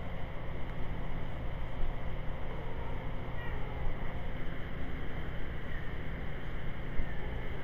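A cat meows in a room where Spyro 2 gameplay sounds play, against a steady broadband hiss; the meows are soft and fairly close, with no talking.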